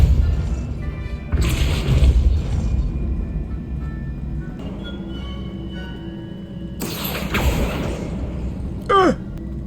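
Depulso force spell cast in the Hogwarts Legacy game on PS5: a sudden burst of whooshing, crashing impact noise with a booming low rumble, followed by a brief rising magical sweep, loud against a steady game ambience.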